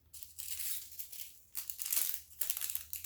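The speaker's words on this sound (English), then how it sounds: "Cut open the bag." Scissors cut open a plastic bag: close crinkling and rustling in three bursts, with snipping and tearing sounds.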